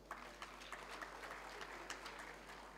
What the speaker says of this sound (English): let's give that again a round of applause